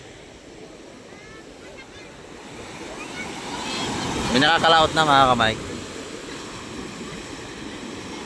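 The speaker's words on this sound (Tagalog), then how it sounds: "Ang laki ng alon." Big sea waves wash at a fish terminal in Julugan, Tanza, Cavite, a rough, windy surf roar that swells toward the middle, with someone talking close over it.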